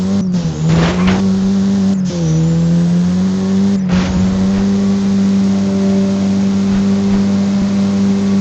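Car engine in a video game starts up, then settles into a steady, loud driving drone with a few short revving surges, heard alone without voices.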